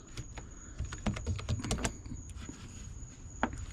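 Keys clicking in short irregular bursts on the keyboard of a Compaq LTE-5000 retro laptop, close and fairly quiet, with a faint steady whine behind.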